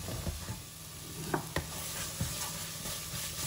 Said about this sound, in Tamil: போட்டு இதை நல்லா 1 நிமிஷத்துக்கு